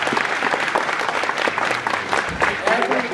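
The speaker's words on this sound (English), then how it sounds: "That's worth a round of applause." Audience applause at a sci-fi convention Q&A in Stockholm, a dense, steady wash of clapping from a crowd filling the hall throughout, with voices faintly mixed in.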